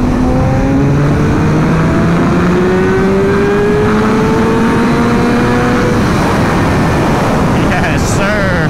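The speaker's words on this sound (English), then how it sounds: "We'll do one more like 30 or third gear, 60 mile per hour pull" A motorcycle pulls hard in third gear up toward 60 mph, its engine note rising steadily in pitch over strong wind roar, loud and close, with the rider talking over it.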